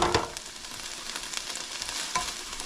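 Large pieces of peppers and onions with seasoning hiss and sizzle in a hot pan, a steady close frying sound with light stirring scrapes and no voices.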